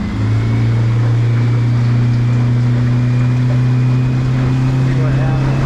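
A Stabicraft Frontier 1550 boat's outboard engine is throttled up, a loud, steady droning hum that climbs slightly in pitch and holds, heard close and alone.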